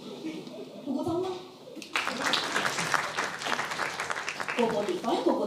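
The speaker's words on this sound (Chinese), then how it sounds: "不鼓掌吗？" An audience at a Chongqing dialect crosstalk comedy show breaks into loud, dense clapping that holds steady for a few seconds, with a voice speaking just before it starts and voices returning as it fades.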